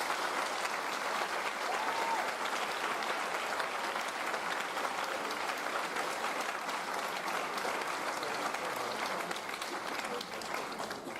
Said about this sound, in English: give them a nice round of applause at this time